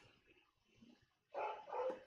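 Two quick, muffled dog barks sound from a distance after a stretch of quiet shuffling, faint and a little indistinct.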